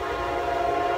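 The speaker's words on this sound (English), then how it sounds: "There's a train coming by." A train rolls past an outdoor spot near a coffee shop and street art, a steady loud rumble with a sustained horn-like tone running through the short moment.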